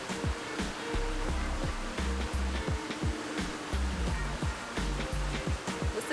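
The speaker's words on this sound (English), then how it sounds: "Listen to that water." Water rushes and splashes nearby in a continuous, surf-like wash, with sharp intermittent taps and thumps cutting through the steady flow.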